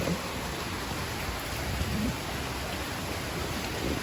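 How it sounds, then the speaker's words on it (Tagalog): Heavy rain pours down in a dense, constant roar near Lignon Hill Nature Park in Albay, steady throughout with no pauses. "Lakas ang ulan."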